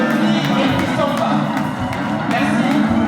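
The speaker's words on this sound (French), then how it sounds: "On l'applaudit très fort." An audience at an anniversary concert event applauds and cheers, a thick continuous wash of clapping with whoops and crowd noise, fairly loud and steady, with voices mixed in.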